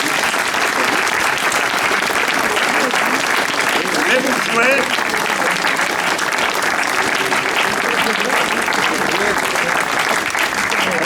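A large outdoor audience at a theatrical street walk claps loudly and continuously, a dense, even roar of hands with a voice briefly heard over it.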